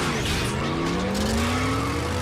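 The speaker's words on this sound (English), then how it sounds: "Let's rev up and roll out." Cartoon vehicles revving up and rolling out, a loud rising engine whine with tire noise climbing steadily in pitch, close and continuous.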